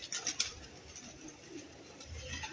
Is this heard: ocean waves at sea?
no